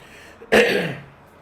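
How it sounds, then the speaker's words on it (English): A single short, harsh cough bursts out close to the microphone, then fades quickly into quiet. "I don't know why I just started coughing"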